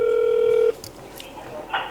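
A telephone call is placed: one steady, loud dial tone ends abruptly, followed by faint short tones and a brief ring-like chirp.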